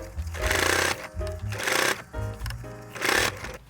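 Sewing machine stitching patchwork scraps in several fast, buzzing bursts of rapid needle chatter, each about half a second long, separated by brief pauses and low mechanical thumps, close and clear with no talking.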